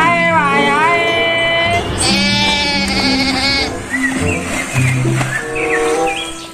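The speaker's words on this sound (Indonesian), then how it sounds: "Wow, domba biri-biri." A toy sheep gives several wavering electronic bleats mixed with other animal sounds from a toy, loud and close, with a person talking excitedly over them.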